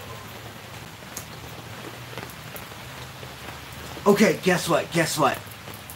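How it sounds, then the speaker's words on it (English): Rain falls steadily outside during a rainy livestream, a soft continuous patter heard at low level, briefly covered by a voice speaking near the end. "It's raining, right? Can you hear it?"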